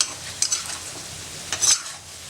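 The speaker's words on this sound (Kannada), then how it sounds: "ಚಿಕನ್ ಸುಮಾರು ಹೀಗೆ ಫ್ರೈ ಆಗ್ತಾ ಇದೆ" Chicken frying over a high flame in a pan while being stirred, a close hiss with two sharper scraping stir strokes, the second louder, and no voices.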